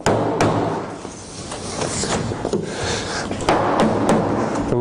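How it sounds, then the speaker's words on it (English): Timber cabin logs hammered along the line, a series of sharp knocks at uneven intervals, close by, with scraping and shuffling of the wood between blows and no speech. "And then we're going to go along the line to hammer it along."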